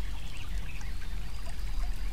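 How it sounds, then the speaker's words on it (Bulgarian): Steady flowing water nearby in a calm outdoor setting, a continuous soft rushing wash with faint birdsong, no talk. "Някъде наблизо чувате шум от вода"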